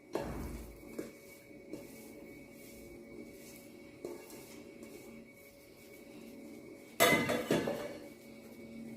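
Rava mixture for rava pak put into a ghee-greased vessel: a few soft knocks early on, then a longer scraping and clinking of a spoon against the metal vessel, close and moderately loud, with no voices.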